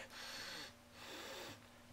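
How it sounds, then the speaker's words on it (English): Two long, congested sniffs through an allergy-stuffed nose, each lasting about half a second with a brief pause between, close and fairly quiet with a hissy, snorting texture. "I can sniff out of this nostril."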